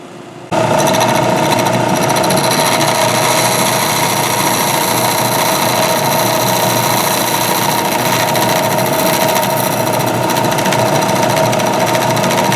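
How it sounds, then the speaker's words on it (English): A power sander starts abruptly and runs at a steady, loud whine for several seconds, grinding against wood with no pauses. "that is a very steady platform to do some pretty nice sanding"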